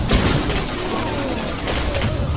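A dense, roaring blast of noise from a video game explosion in Singularity fills the scene, with crackling bursts like gunfire and explosions rolling on throughout.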